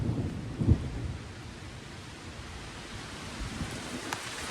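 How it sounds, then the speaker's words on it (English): Thunderstorm in New Jersey with steady rain hiss and a sharp low thunder crack early on, then continuous rainfall, fairly close and moderately loud, with no talking. "you stopping me from recording the rain? Boom!"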